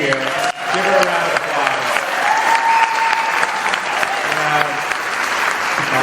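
A loud, close crowd claps for a district representative at a community event at CSU Turlock. The dense clapping runs unbroken, with cheering and voices mixed in beneath it.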